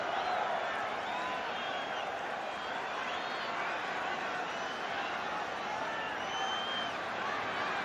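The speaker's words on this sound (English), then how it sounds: "The crowd absolutely having a picnic here tonight." A large rugby league crowd at a 1995 Auckland Warriors versus Brisbane Broncos match roars and cheers steadily in a wide stadium wash, with whistles and shouts rising above the sustained noise.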